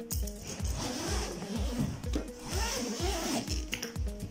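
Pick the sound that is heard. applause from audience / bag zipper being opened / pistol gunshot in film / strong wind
bag zipper being opened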